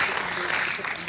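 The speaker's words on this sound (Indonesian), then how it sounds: "Tepuk tangan untuk Ibu Mega" Steady applause from a crowd at a stunting-prevention event fills the whole moment, dense and even, with no break or lull.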